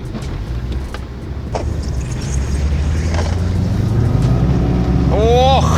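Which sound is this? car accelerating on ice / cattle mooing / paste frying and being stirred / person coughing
car accelerating on ice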